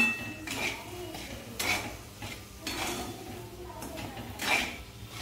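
A spoon stirring cardamom powder into semolina sheera in a pan, repeated scraping strokes with metallic clinks against the pan at an unhurried rhythm, close and clear with no speech.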